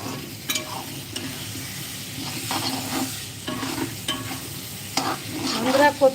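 Taro (kochu) is stirred and fried in a pan in a home kitchen, giving a soft steady sizzle with irregular scraping stir strokes throughout, close and moderately loud, with no talking.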